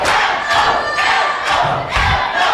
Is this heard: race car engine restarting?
no